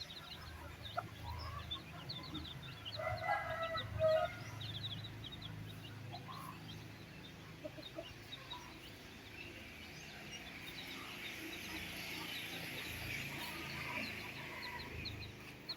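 Soft clucking from a hen with faint peeping newly hatched chicks, steady and low in level over a quiet outdoor background.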